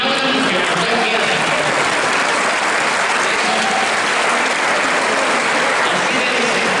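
Loud, sustained applause from a conference audience, a thick continuous roar of many hands clapping with some crowd murmur throughout.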